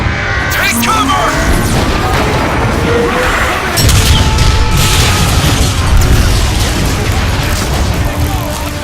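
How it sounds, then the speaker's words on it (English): Artillery strike explosions in Transformers: Fall of Cybertron, heavy booming and crashing in a continuous loud barrage with rumbling low end and mechanical clanks, voices speaking beneath it. "I've been curious as to what an artillery strike would do to that marauder"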